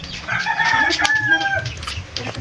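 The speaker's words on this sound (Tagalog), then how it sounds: "Ito yung mga alagaan natin manok, oh." Backyard chickens on a rural provincial farm in the Philippines cluck in a busy overlapping chorus, with a rooster's crow rising through the middle, fairly close and steady throughout.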